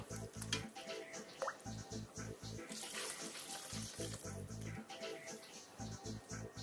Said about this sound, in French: on rajoute du bouillon de légumes